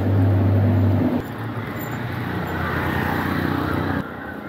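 Vehicles rolling past on a road near Aarey Colony in Mumbai, a loud nearby engine rumble fading into steady traffic noise, with another pass toward the end.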